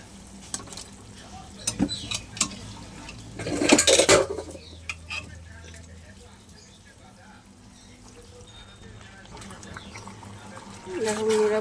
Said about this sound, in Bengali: এখন আমি মটন সিদ্ধ করাটা দিয়ে দেবো।